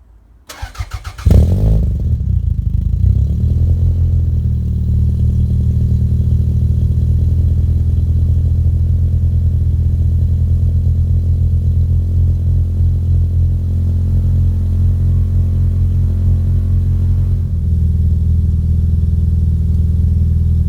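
A Toyota Celica ST202 GT with a newly fitted 2.5-inch cat-back exhaust cranks briefly, catches and settles into a loud, steady, rumbling idle that runs on close by without talk.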